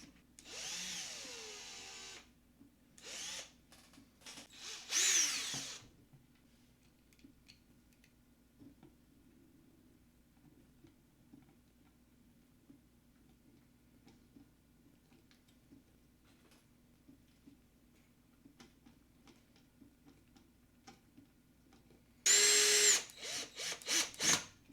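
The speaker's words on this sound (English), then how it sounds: "We're gonna drill." A power drill whirs in a few short bursts near the start while building a DIY electric skateboard, then a long quiet stretch, then one more brief loud burst near the end.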